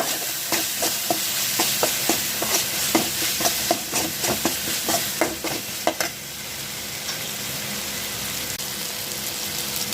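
A spoon stirs pasta sauce masala in a hot pan, making a run of close, regular scraping strokes over a steady sizzle for about six seconds, then the stirring stops and only the frying hiss continues.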